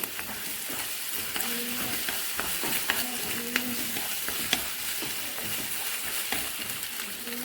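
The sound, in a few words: eggs being scrambled and stirred in a frying pan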